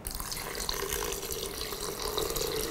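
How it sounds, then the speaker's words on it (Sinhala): Water poured or running into a container of aloe vera drink ingredients, a steady splashing flow that stays at an even level for a few seconds with no talk. "මේවා ටික දාලා වතුර ටිකක් දාලා"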